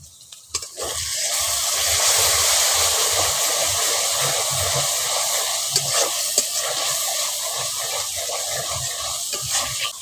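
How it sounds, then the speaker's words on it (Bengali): Tomato with ginger-garlic paste stir-fried in a pan for egg biryani: an abrupt loud sizzle that holds steady, with scraping stir strokes and occasional clinks, close and alone without talk. "এবার এর মধ্যে দিয়ে দিচ্ছি টমেটোর পাতা টমেটোর পাতা দিয়ে একসঙ্গে ভালো করে কষে নেব"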